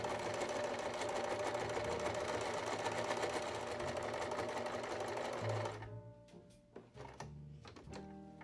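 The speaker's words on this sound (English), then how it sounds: "Then we take that over to our sewing machine, and again we give ourselves a 1/4 inch seam on that." Home sewing machine stitching a quarter-inch seam on a quilted Christmas stocking, whirring at a fast, even pace for several seconds, then stopping, followed by soft handling thunks and clicks.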